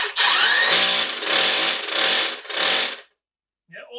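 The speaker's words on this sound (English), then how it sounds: "all it does is should vibrate forward and backwards like a hammer." A WAKYME cordless hammer impact drill in hammer mode runs in a loud, buzzing rattle with a slightly pulsing rhythm for about three seconds, then stops before a faint brief sound.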